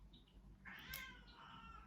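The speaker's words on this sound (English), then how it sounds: "that is my cat." A pet cat named Tika lets out a single faint meow indoors, a brief rising-and-falling cry heard alone against quiet room tone.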